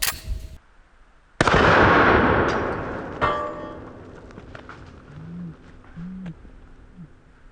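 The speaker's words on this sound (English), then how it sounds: "we will start with the 5-petal slug" A 12 gauge 5-petal slug fired from a shotgun at a steel target: a loud close blast with a long decaying rumble, followed by a sharp metallic report and fainter ringing and rattling afterward.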